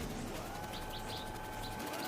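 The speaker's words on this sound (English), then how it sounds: "Theropody albicollis, the white-throated bee-eater bird." A white-throated bee-eater bird in the Spider-Man 2 video game gives short, repeated chirps over a steady, dense wash of ambient game background noise, with no talking.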